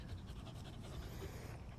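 Steady rapid panting from a dog close by, quick breathy rhythm throughout, with soft background hiss.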